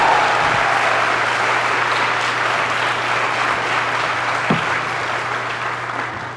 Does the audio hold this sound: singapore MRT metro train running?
no